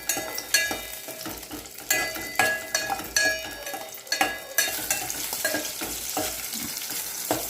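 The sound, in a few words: green chillies frying in oil and being stirred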